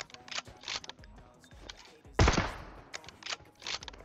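Bursts of rapid gunfire crackle in short volleys, with one louder, heavier blast in the middle, from shooting in PUBG Mobile.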